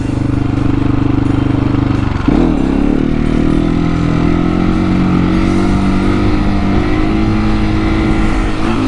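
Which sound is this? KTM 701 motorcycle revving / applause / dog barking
KTM 701 motorcycle revving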